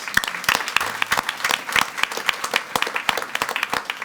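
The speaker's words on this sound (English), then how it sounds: "Give him a round of applause." Round of applause at a school board meeting welcoming a new assistant principal of an elementary school, dense steady clapping from a seated crowd throughout, fairly loud and close.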